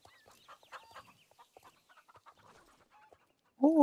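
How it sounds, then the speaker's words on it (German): Chickens in the online horse-riding game Star Stable cluck quietly in a steady pecking chatter. A louder, nearer squawk bursts in at the very end. "ich fütter die Hühner"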